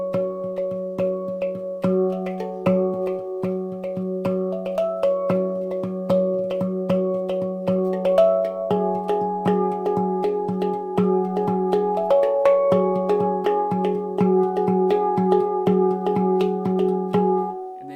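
Handpan (hang drum) playing an interlocking 2-3 polyrhythmic groove, steady resonant low bass note under repeating higher tonal strikes, a continuous moderately loud melodic pattern with no talking.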